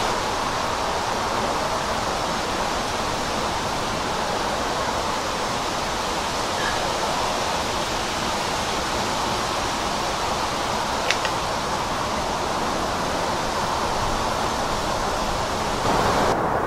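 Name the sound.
distant highway traffic noise heard from mountain trail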